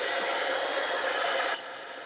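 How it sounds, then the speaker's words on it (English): A hair dryer blows a steady, loud rushing whoosh over a mixed media artwork, running continuously for about two seconds and then dropping slightly in level near the end, with no voices. "And then we're going to do a little bit of drying."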